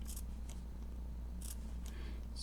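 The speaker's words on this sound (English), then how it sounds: "These ones like to snip." Fabric scissors make several quick, crisp snips while trimming the facing of a doll dress, close and isolated over a steady low hum.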